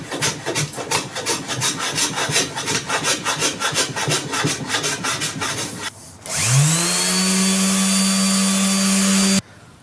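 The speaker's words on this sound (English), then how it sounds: "I should go over to the bandsaw and just cut off the obvious excess before I go any further." A wood guitar body is fed through a bandsaw, first with a rhythmic rasping of the blade through the wood, then a loud steady motor whine that runs until the machine cuts off.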